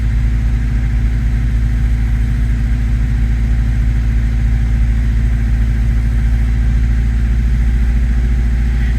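A barn-find 1982 Saab 900 Turbo engine idles at low RPM with a loud, steady, even low rumble and throb that holds constant throughout, with no voices over it.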